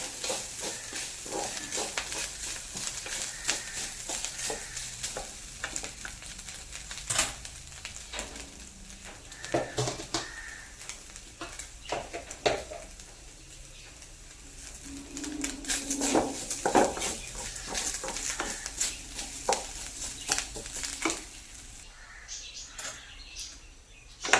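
Onions fry in a non-stick pan with a soft sizzle while a utensil stirs and scrapes them in irregular clicks, close and fairly quiet.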